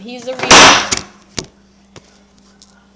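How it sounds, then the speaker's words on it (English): An object falls onto a kitchen table with a loud crashing clatter, followed by a couple of smaller knocks, while a voice is speaking nearby. "The thing fell on the table, the kitchen table."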